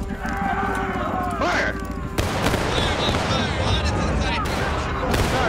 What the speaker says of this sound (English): we'll fire another volley and kill him